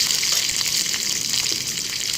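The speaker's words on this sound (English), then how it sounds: "as it begins to sizzle, add the curry leaves" Spices and curry leaves sizzle and crackle steadily in hot oil at close range, a bright hissing spatter with no voices.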